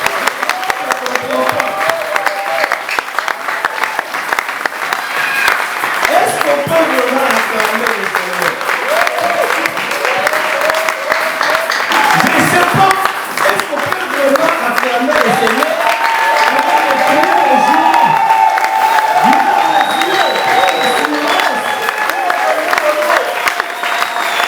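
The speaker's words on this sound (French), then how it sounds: "Est-ce qu'on peut vraiment acclamer le Seigneur?" A church congregation applauds and cheers to acclaim the Lord, sustained loud clapping from a large crowd with shouts rising over it throughout.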